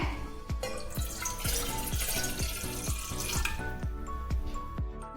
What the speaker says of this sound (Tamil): தண்ணி ஊத்துங்க.